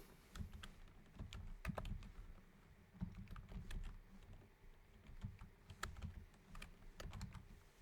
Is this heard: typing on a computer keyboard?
yes